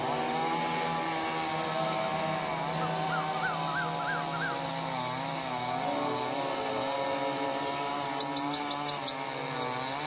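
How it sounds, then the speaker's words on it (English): Steady mechanical drone and whine of construction machinery near a lake, continuous and fairly distant, with bird chirps and calls breaking through over the top. "there is a lot of construction that is happening in the precincts of the lake"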